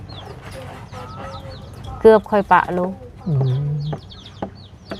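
Golden chickens cluck and coo in short bursts close by, with a louder run of clucks midway and a low drawn-out call, while people talk over and between the bird sounds.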